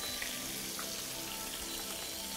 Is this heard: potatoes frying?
yes